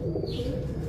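Soft, low cooing of breeder pigeons, a brief murmuring burble heard close by with no voices.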